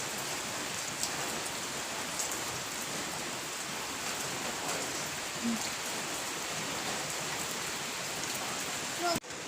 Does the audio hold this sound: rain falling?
yes